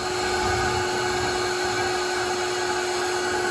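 Steady, loud electric blower whine on high heat, a constant close drone with a sharp tonal hum, drying out a rusty fuel tank from a third-generation Honda Magna motorcycle.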